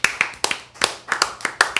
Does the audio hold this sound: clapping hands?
yes